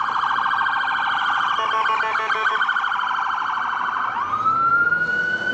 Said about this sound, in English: It might be an ambulance. This is the main route to the hospital. Yep, ambulance.